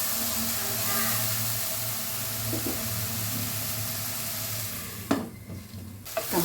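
Tomato frying in a pan while being stirred, a steady sizzle with scraping stir strokes throughout, then a louder clatter of the spoon near the end, close and moderate in level.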